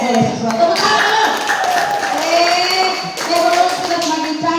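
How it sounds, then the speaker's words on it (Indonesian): A school audience at a junior high in Lampasio claps, a dense, continuous patter of hands heard close and steady, with children's voices and chatter mixed in underneath. "Tepuk tangan"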